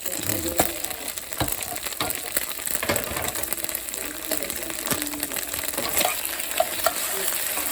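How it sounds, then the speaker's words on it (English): Seared vegetables sizzle steadily in a pan while cream cheese is stirred in among them, with repeated scraping taps of the spoon over a continuous frying hiss. "Stirring it all in there with the vegetables and get this cream cheese melted down."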